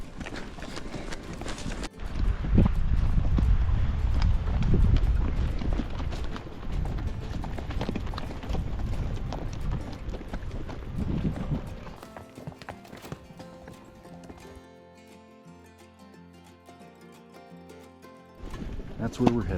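Horse hooves clip-clop steadily over rough, boggy mountain ground with rustling and jostling, while people talk now and then; the hoofbeats fade toward the end.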